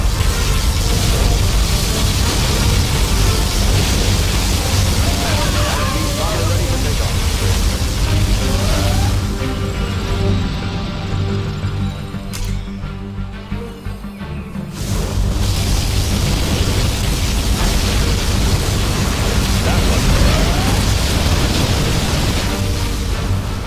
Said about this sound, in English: Particle cannon ready. Particle cannon activated.